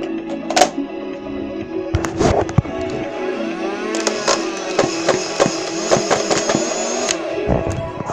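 A new Nerf gun fires foam darts in a run of sharp, close pops, some spaced out and some in quick bursts, standing out loudly over a busy background.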